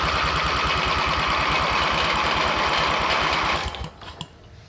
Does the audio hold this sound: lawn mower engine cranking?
yes